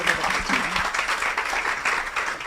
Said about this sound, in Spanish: recibamos con un fuerte aplauso a Cecilia